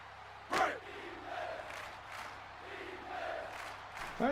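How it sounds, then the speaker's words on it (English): Crowd noise from Cookeville's stadium in NCAA Football 06, a Tennessee Tech home game against Murray State: a distant roar with swelling chant-like cries, a sharp burst near the start and another rise at the end. "you can hear this Cookville crowd getting back into it again."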